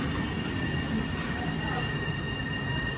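A Trenitalia passenger train in Italy gives a steady rumbling, hissing rail noise with faint high-pitched wheel whine, continuous and fairly close with no distinct events.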